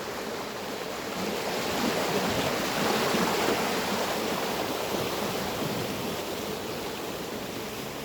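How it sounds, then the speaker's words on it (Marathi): Floodwater rushes down from the hills after heavy rain in a village, making a continuous broad roaring wash that stays loud and even throughout with no voices. "त्या डोंगरा डोंगरामधून पाऊस झाल्यामुळं एकदम स्पीडनी पाणी आलेलं आहे"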